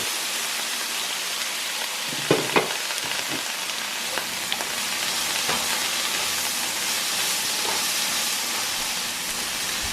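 Eggs and asparagus fry under a lid in a covered pan, giving a steady loud sizzle and steaming hiss with a few brief clinks near the start.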